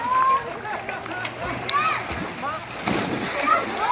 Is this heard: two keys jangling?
no